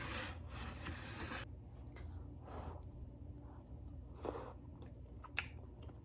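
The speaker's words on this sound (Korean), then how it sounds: "오늘은 요거 먹을 거예요." Someone chews food during a casual meal, with soft, wet mouth noises and a rustle close to the mic, a few sharper bites standing out near the end.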